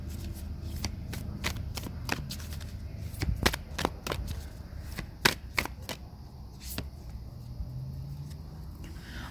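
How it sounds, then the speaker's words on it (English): A Moonology oracle card deck is handled, shuffled and a card pulled, making a run of crisp riffling snaps and flicks in quick bursts, close and fairly quiet, with no voice. "Now, I'm going to pull a Moonology card from the Moonology deck as some advice for you."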